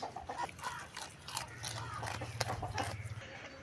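Goat kids chew moringa stems with soft crunching and biting close by, while a low animal sound and light background noise run underneath.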